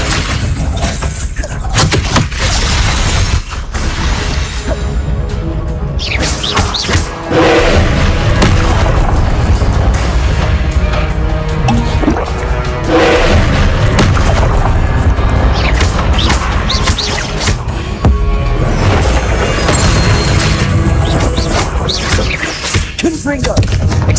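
Spell explosions from Confringo and other combat spells in the game Hogwarts Legacy, with loud booming blasts and crashing impacts repeating over a dense, continuous battle soundtrack with voices.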